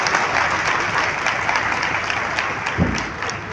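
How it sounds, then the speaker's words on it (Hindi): Crowd applause at a political convention of graduates in a federal urban area, a dense, steady wash of clapping from many hands lasting throughout, fairly loud and close, with no talking over it. "वो वाहिद शख्स सिर्फ आफाक अहमद है और इस बात में तालियां होनी चाहिए।"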